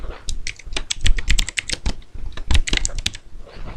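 Quick, uneven clatter of keys on a computer keyboard as a title is typed, close and crisp, in short bursts with brief pauses and no talking.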